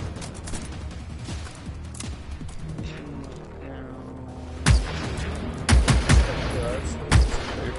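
Gunfire in the video game Generation Zero: several sharp loud shots and short bursts, clustered mostly in the second half, with voices talking during the clip.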